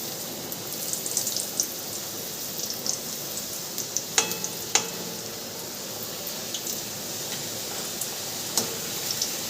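Food frying in overheated oil at home, a steady broadband sizzle with scattered sharp pops and crackles, loudest bursts around the middle and near the end, no talking.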